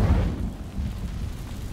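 Incendio fire spell bursting into flame on dry vines in Hogwarts Legacy: a deep rumbling whoosh that erupts at once and then settles into a low, steady crackling roar.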